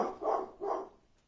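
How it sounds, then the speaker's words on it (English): A dog gives two quick barks in succession, muffled and somewhat distant, followed by quiet. "you're going to hear my dog bark in a little while"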